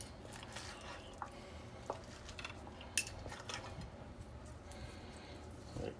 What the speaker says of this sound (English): I'm gonna cut in one of these steaks here